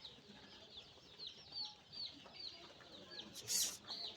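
Chickens at a hatchery farm cluck in a quick series of short, moderately faint calls against a quiet, hissy background, with one brief louder burst near the end.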